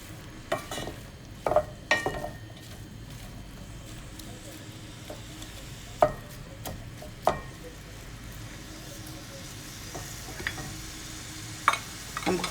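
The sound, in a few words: stirring onions with chicken pieces frying in a pan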